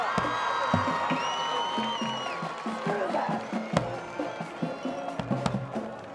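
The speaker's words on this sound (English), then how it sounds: "let's have one big round of applause for our" Crowd at a high school homecoming football game, Albert Gallatin versus Franklin Regional, cheers and whoops with scattered clapping, a steady roar with whistles over it and sharp claps growing toward the end.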